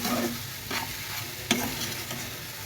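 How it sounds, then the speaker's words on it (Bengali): Noodles cooking with spices in a pan, a steady broadband sizzle with a few short stirring scrapes and one sharp utensil knock near the middle. "একবারে লাইট নুডলস রান্না করে নিচ্ছি"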